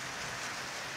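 Steady rain falling on a mountain road in the Kumaon region of Uttarakhand, a dense, even hiss that stays constant and close for about a second.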